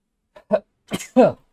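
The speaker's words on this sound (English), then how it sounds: "I have to sneeze." A couple of quick breathy bursts and a sharp, explosive sneeze at the end, close up with no other sound around it.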